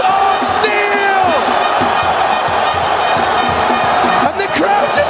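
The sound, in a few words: esports arena crowd erupting in cheers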